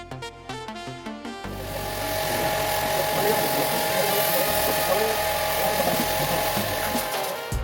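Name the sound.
pressure washer running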